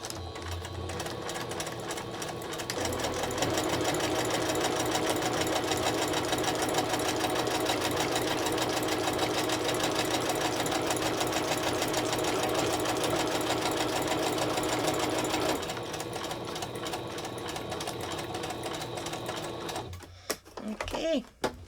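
A sewing machine stitches clear plastic cereal box liner bags with a steady, fast mechanical whirring hum that runs for most of the time, then stops as handling noises follow.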